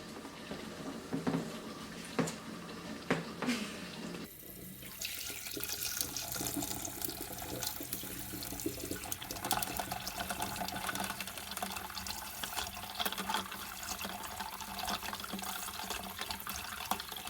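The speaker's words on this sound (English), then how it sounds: "I'm just going to add some ice cubes to it and some cold water." Cold tap water runs steadily into a bowl being readied as an ice bath in a home kitchen, a continuous close splashing stream that starts a few seconds in after some faint clinks and carries on without talk.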